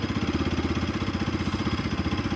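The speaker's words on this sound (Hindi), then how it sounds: "और बाइक का साउंड सुन सकते हैं" A 2025 Bajaj Pulsar RS200 motorcycle engine idles close up after a cold start with a loud, even, pulsing rhythm, a rapid throaty thump that holds steady throughout.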